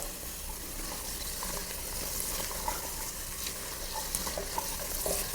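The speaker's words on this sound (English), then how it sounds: "fry these cashews and raisins" Cashews and raisins fry in hot ghee with a steady soft sizzle and small crackles, close by with no talking.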